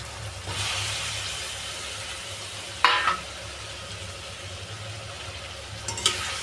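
Fried eggs going into spiced masala in a pan, with a steady sizzle and stirring, then two sharp bursts of spitting and clatter as the eggs land, one near three seconds and another near six.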